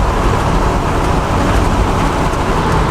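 Restored Jeep, abandoned for 20 years, cruising at 55 in fifth gear, a loud steady rumble of engine and road noise heard from inside the cab without a break.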